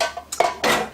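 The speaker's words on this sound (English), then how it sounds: "I need 2 cups of water and 2/3 cup of bread flour that we are going to stir together until all the lumps are out" Water and bread flour stirred together in a pot, a few quick clinking scrapes of a utensil against the metal, close and clear with no talking.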